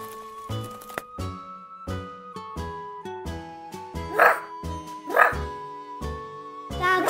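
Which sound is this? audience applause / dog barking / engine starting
dog barking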